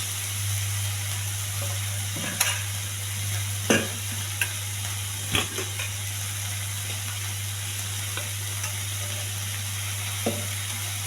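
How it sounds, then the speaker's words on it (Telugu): Onions and tomatoes fry over high heat for an onion chutney while being stirred, giving a continuous close sizzle broken by several scraping clicks from the spatula, with no talk and a steady low hum underneath. "మాడిపోకుండా కలుపుకుంటూ ఉండాలి."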